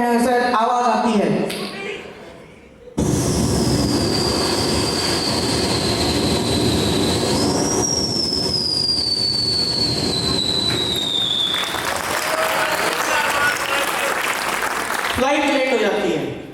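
A voice at a poetry recital mimics an airplane landing and its front and rear wheels coming out, producing a long rising and falling whine that runs for about nine seconds, with crowd noise underneath and speech at either end.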